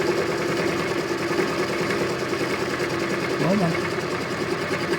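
Bike part being cut on a spinning cutting machine in a custom bicycle workshop: a steady, close motor whine runs throughout as the cut is made, with a brief voice spoken over it.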